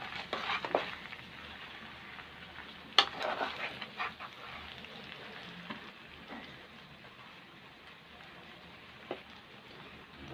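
Boiled macaroni tipped into a pan and stirred while making beef macaroni, giving soft scraping and clattering with a sharp clink near three seconds over a low steady sizzle, fairly quiet and with no talking.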